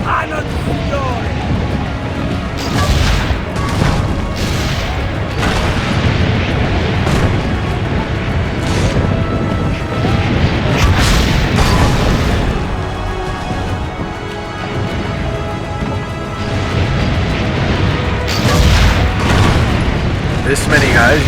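Battle din in Assassin's Creed Brotherhood: cannons firing and explosions bursting again and again, loud and dense with rumbling booms and crackling gunfire, while voices talk over the noise.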